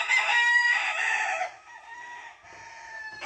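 A gamecock rooster crows loudly and close by, one long strained call that fades, followed by a softer second crow.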